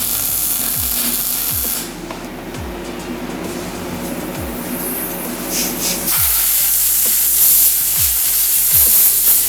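Hot steering column metal on a Cummins-powered rat rod build is quick-cooled, giving loud spraying sizzles and hisses in several bursts, with a few sharp metallic ticks between them.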